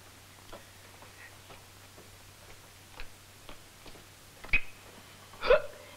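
Someone hiccups a few times in a quiet room with a steady low hum, several faint hiccups building to two louder, sharper ones near the end.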